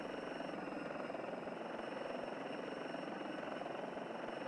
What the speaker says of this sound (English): the sounds of the helicopter are pretty good